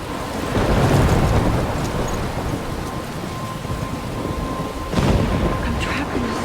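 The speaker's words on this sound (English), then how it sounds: "I'm trapped in a storm?" Video game thunderstorm in Life is Strange, with steady heavy rain hissing throughout and deep rumbling thunder swelling near the start and again toward the end, with no talking.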